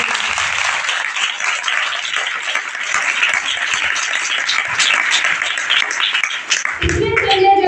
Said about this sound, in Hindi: तो खुदा के जलाल के लिए जोरदार तालियां दें